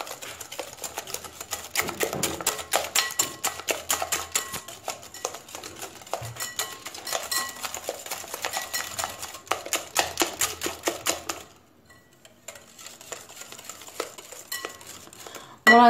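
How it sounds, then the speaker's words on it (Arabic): A mixture whisked by hand in a bowl until creamy, a fast steady run of light metallic clicks and scrapes for about eleven seconds before it stops, with soft background noise after. "كنطربو هكا مزيان تيولي على شكل كريمي"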